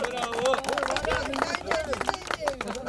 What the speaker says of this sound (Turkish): Evet, kocaman bir alkış alalım.